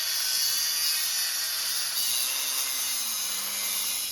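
Cutting shock mounts off a square body truck frame, a harsh continuous hissing grind of metal cutting, close and steady for a few seconds, with no talk.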